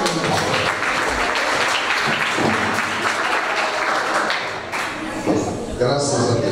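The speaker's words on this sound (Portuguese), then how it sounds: "palmas para Jesus" A church congregation claps for Jesus during a worship service, dense sustained clapping filling the room for several seconds, loud and close, with voices mixed in.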